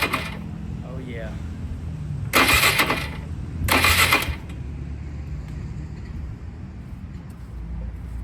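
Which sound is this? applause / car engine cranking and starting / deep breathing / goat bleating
car engine cranking and starting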